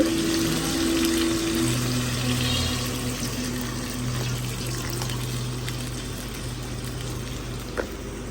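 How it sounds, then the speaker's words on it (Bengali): Water pours steadily from a tap or container into a cooking pot for dal in a home kitchen, a continuous liquid rush with a faint hum, no voices over it. "এখন পানি দিয়ে দিব এটার মধ্যে"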